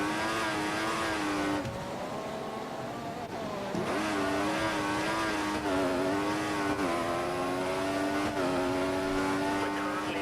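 A Formula 1 race car engine screams at high revs through a qualifying lap in the F1 2014 video game, pitch rising and dipping sharply with gear shifts and braking, loud and continuous throughout with no talk.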